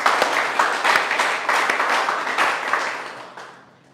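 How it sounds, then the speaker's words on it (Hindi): Audience at an acting class in Mumbai claps in a short round, the applause starting strong and gradually tapering off to quiet. "उनके लिए जोरदार तालियां।"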